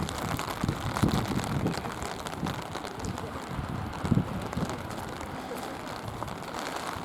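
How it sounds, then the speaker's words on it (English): Steady rain falls around a city fortress in Skopje, a continuous broadband wash with scattered louder drops and some wind noise on the microphone, with no talking. "Boy, this rain is not letting up."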